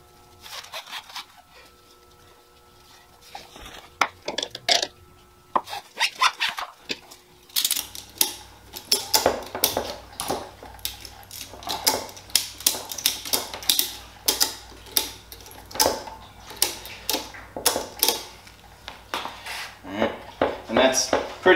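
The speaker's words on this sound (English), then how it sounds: "I'm going to secure it with the ratchet straps" Ratchet straps are tightened to secure a motorcycle on a work stand: a quiet pause of scattered clicks gives way to a long run of sharp, rhythmic ratcheting clicks in repeated bursts, close by.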